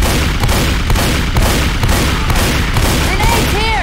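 Loud shotgun blasts and rapid gunfire in the Left 4 Dead video game, a near, steady barrage of booming shots with a few rising electronic tones near the end.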